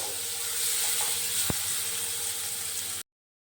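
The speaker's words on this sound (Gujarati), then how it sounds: "એક ટમેટું સમારીને લીધું છે મેં ઝીણું ઝીણું તેને આપણે થોડુંક ચડવા દઈશું" Finely chopped tomato sizzles steadily in a hot pan while cooking for rasam vada, a soft continuous hiss with one brief clink partway through, then it cuts off.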